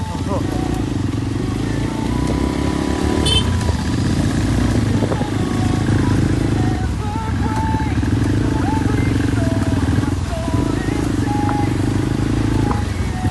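A motorcycle engine fitted with an aftermarket silencer rumbles in a steady, deep drone throughout, loud and close, while someone talks over it.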